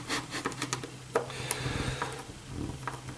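Small hand-driven screw being turned into a plastic part of a 1/8 scale Eaglemoss Ecto-1 model, with close, soft rubbing and creaking scrapes and a few light clicks at an even pace.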